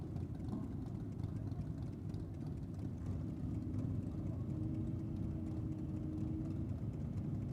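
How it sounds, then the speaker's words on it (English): A bagged Harley-Davidson motorcycle engine rumbles at a drag strip, a continuous heavy low-pitched drone heard from a distance, steady and without distinct revving peaks. "Taking on one of our bagged Harleys."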